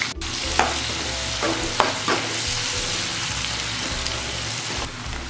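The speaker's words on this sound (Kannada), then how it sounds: "ಈರುಳ್ಳಿ ಹಾಕ್ಕೊಂಡು ನೀವು ಫುಲ್ಲು ಗೋಲ್ಡನ್ ಬ್ರೌನ್ ಆಗೋವರೆಗೂ ಫ್ರೈ ಮಾಡ್ಕೋಬೇಕು ಎಣ್ಣೆಯಲ್ಲಿ." Chopped onions fry in hot oil in a pan for a chicken biryani, with a continuous loud sizzle and occasional stirring scrapes throughout.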